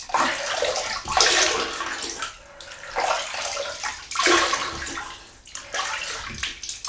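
Hot tap water runs steadily into a basin while a face is wetted before shaving, a close splashing rush that swells and dips as hands move through the stream, with no talking.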